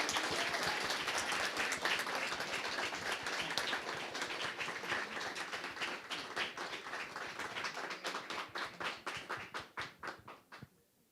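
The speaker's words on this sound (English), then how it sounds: "A round of applause for them, please." An audience at a songwriters competition applauds the judges, a full crowd of claps that thins out toward the end into a few distinct, sparser hand claps before fading.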